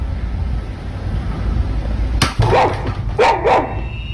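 A dog gives two sharp, close barks in quick succession after a sudden clatter of something falling from the top of a fridge in a home, the barks standing out loudly over faint background noise.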